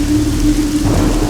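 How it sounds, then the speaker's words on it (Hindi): Heavy rain pours steadily and loudly, a constant wash of drops with no voices. "बाहर बारिश हो रही है।"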